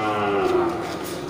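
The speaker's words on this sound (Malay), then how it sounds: "untuk sapi Aceh jantan" An Aceh bull moos in a long, low drawn-out call, close and loud, with a busy crowd murmuring in the background at a livestock market in Gandapura.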